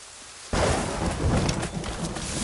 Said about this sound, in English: This storm's getting worse.